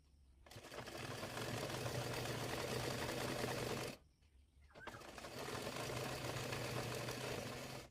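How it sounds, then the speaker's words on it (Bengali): A sewing machine stitches lace onto a hijab in two steady bursts of rapid mechanical whirring, separated by a brief pause, close and moderately loud, with no speech. "এরপর লেসটি সোজা করে রেখে চাপ সেলাই দিয়ে নেব"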